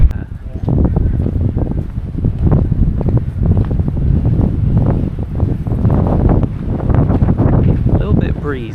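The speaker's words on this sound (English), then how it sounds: "A little bit breezy." Steady breezy wind gusts across an open field of cows near Chulmleigh, Devon, buffeting the microphone with continuous low rumble and rustle throughout, loud and close.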